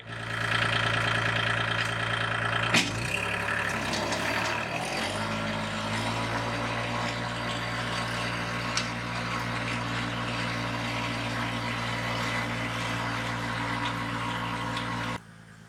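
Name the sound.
Kubota L2501 tractor engine running while tilling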